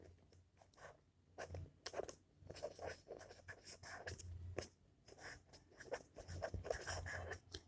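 Someone writing out a sentence makes faint, close scratching strokes in short, uneven bursts with brief pauses between them.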